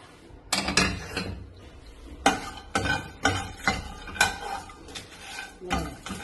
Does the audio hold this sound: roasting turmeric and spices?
yes